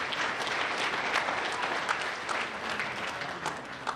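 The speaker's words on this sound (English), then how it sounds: "can we give a round of applause for Coach Polk for being here tonight?" Audience applause for Coach Ron Polk at an evening gathering in Ville Platte, Louisiana: dense, steady clapping from a crowd, sustained and fairly loud throughout without letting up.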